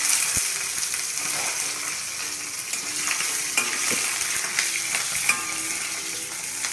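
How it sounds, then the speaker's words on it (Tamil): Whole small shallots frying in a pan for kadalai theeyal, a continuous close sizzle with occasional stirring scrapes and pops, no voices. "உரித்து வச்சுருக்க முழுசு முழுசாக போடணும் சின்ன வெங்காயம்"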